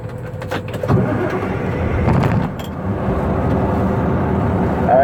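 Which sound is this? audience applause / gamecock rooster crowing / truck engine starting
truck engine starting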